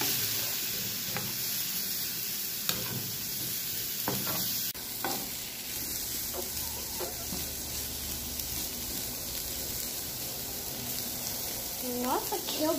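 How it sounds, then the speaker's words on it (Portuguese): Garlic frying in a pan in a home kitchen, a steady soft sizzle running throughout with occasional stirring clicks and scrapes, heard fairly close and without talk. "bora esperar o alho ficar mais fritinho"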